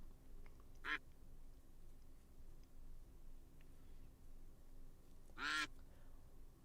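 Two short duck quacks from a random duck race generator, one near the start and a louder one toward the end, over a faint low background hum.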